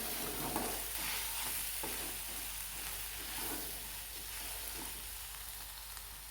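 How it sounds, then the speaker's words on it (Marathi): Mashed potatoes being stirred into a batata vada filling in a pan with the gas just turned off, giving a steady soft scraping and faint sizzle that runs continuously without any talk. "आपण हाताने मॅश करून घेतलेले बटाटे टाकून घेणार आहोत"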